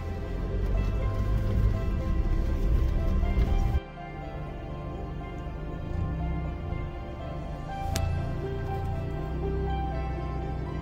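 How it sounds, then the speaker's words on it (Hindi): A waterfall beside a winter mountain road in Spiti Valley makes a continuous rushing wash of water that drops abruptly in level partway through, then carries on steadily. "भाई ये देखो सामने झरना, मेन अट्रैक्शन इस रोड का।"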